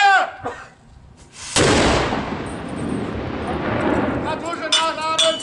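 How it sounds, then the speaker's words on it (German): A single loud blast from a historical cannon at a medieval castle reenactment, Burgengruppe Altdahn, Germany, with a long rolling echo, preceded and followed by shouted German commands. "Zündkraut aufgelegt, Kanone ist scharf! Gib! Feuer!"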